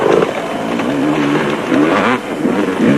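Off-road racing motorcycles, including a Yamaha, roar past during the 1998 Caledon 400 in South Africa. The engines rev loud and close, rising and falling in a continuous buzzing snarl.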